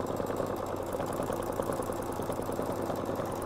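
A sewing machine stitches free-motion quilting feathers in a fast, steady mechanical patter with a constant motor hum, close up and uninterrupted.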